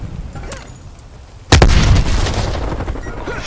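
A grenade bursts with a sudden loud boom halfway through, followed by a rumbling decay, amid Call of Duty: Black Ops Cold War gunfire and battle ambience.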